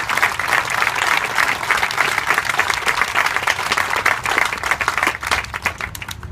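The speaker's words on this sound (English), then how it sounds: "Give him a nice round of applause." An audience at a youth academy event gives a sustained round of applause, dense and steady from start to finish, loud and close, with no pauses or talk over it.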